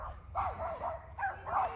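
Ruby the dog barks nearby, three or four yipping, whiny barks in two short bursts over a low steady rumble.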